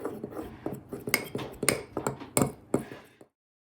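Pancake batter being mixed with milk and date syrup in a home kitchen, heard as a run of quick clinks and taps of a utensil against a bowl, fairly close, stopping abruptly near the end.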